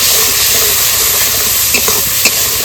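Spice paste sizzling and frying in a pan with salt and turmeric, a loud steady hiss with a few scraping stirs near the end.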